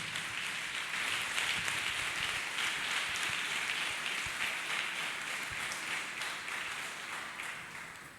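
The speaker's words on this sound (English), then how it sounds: "Let us clap hands for our deliverer, Jesus Christ himself." Church congregation at a testimony service claps hands together in a continuous, fairly faint roar of applause that holds steady for several seconds before tapering slightly.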